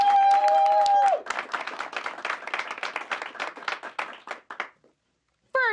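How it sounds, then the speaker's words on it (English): An audience claps and cheers for a group of actors being introduced at a show, a dense round of applause that thins into scattered claps and fades to silence, with a voice speaking at the start and end. "Let's go ahead and give them a round of applause."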